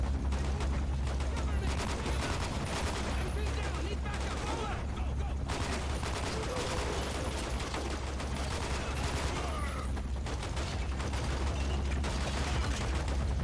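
Dense, continuous gunfire from the Xbox 360 game 007: Quantum of Solace, with rapid overlapping shots and bursts filling the whole stretch at a loud, steady level.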